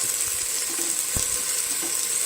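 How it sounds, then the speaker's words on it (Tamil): Tomato, mint leaves, coriander leaves and slit green chillies sauté in a pan for an egg biryani, giving a steady soft sizzle with light stirring scrapes, close and even throughout. "இது நல்லா வதங்கி வரட்டும்"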